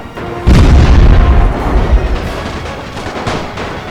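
Heavy artillery booms in a video game battle for Stuttgart, with a loud deep blast landing near at the start, then rolling rumbling follow-up explosions and distant shots fading through the rest of the moment.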